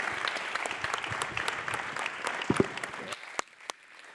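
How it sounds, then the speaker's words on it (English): Conference audience at a ChangeNOW 2022 session applauds after a talk: dense, steady clapping that thins into a few scattered claps near the end before stopping. "It's a big round of applause."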